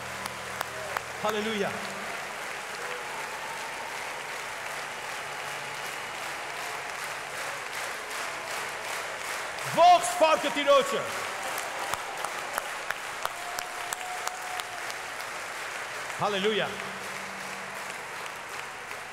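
Loud, sustained clapping from a congregation during an Armenian Christian worship service, with bursts of voices and calls rising over the applause and a few louder swells near the middle and end.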